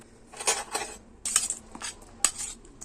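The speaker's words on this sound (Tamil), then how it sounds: "இப்போது நம்ம நறுக்கி வச்சுருக்க மூணு தக்காளியை சேர்த்துக்கலாம்" Three chopped tomatoes drop into a cooking pot of sambar with soft clattering and scraping of a utensil against metal, in a few separate bursts.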